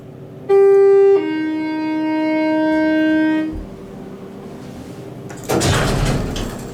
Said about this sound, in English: Listen to that door.